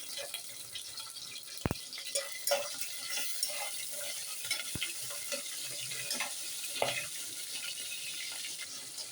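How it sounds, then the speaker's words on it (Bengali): Prawns fry in a pan on a home stove, a soft, uneven sizzle with scattered crackles and a few sharp clinks, fairly quiet and close, with no talking. "এই যে চিংড়ি মাছটা একটু বাজিয়ে নেই আগে"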